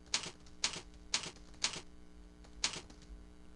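Keys on a computer keyboard clack sharply in a few separated presses, close and crisp against a faint room hum.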